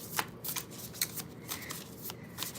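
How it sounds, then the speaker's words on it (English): A tarot card deck being shuffled by hand, a steady close run of riffling and soft card slaps with repeated flutters, quiet and alone. "So, Linda, I'm going to shuffle the tarot deck first"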